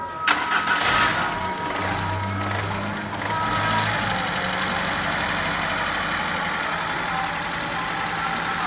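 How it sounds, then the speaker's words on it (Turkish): A Renault Laguna 2 with a 2.0 engine, freshly rebuilt with new spark plugs and plug leads, cranks briefly with a stuttering starter whir, catches and settles into a steady close idle that continues with a faint background hiss. "Aracımıza marş yapıyoruz."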